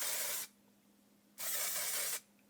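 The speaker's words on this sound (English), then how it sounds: "I just grab a couple sections and give a little spray" Two bursts of hairspray from an aerosol can, each about a second long, sprayed onto sections of hair near the hairline, with a quiet pause between them and no talking.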